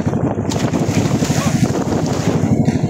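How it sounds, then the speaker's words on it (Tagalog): Strong waves slap and slosh against a small fishing boat off Calaca, a dense, continuous churning roar with heavy wind buffeting the microphone, close and loud throughout. "Oh, lakas ng alon oh."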